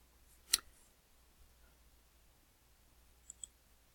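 A few faint, sharp computer mouse clicks in a quiet room: one distinct click early on, then a quick pair of softer clicks near the end.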